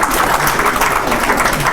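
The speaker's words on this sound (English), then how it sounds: "I think you should give yourself a big clap." Loud, dense audience applause fills a conference room, steady and continuous with no voices over it.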